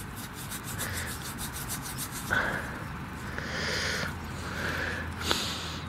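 Someone rubs an old dug-up coin by hand to burnish it, making soft, close scratchy strokes that come in several short bursts with pauses between them. It is quiet, with no talking.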